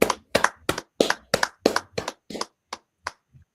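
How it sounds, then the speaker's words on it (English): A small group of people clap in about a dozen short bursts of applause, each burst sharp and separate, fading and thinning out toward the end. "Alright, clap it up."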